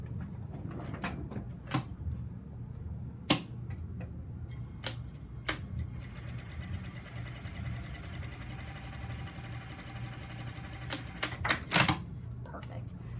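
A domestic sewing machine stitching a half-inch seam allowance for a French seam, a fast even mechanical patter that runs for several seconds, framed by sharp clicks and handling knocks, with a voice talking over it.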